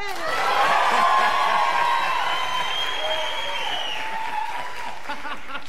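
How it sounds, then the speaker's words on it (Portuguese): A television studio audience breaks into loud, sustained applause mixed with some cheering and whoops, swelling early and then easing slightly while continuing to the end. "Palmas!"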